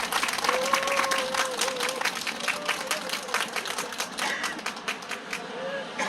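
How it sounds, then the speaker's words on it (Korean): A crowd at an outdoor anti-poverty rally in Busan applauds a speaker coming up, sustained clapping with scattered sharp claps over a steady background, with a faint voice and tonal sound running underneath. "박수로 맞아주십니다"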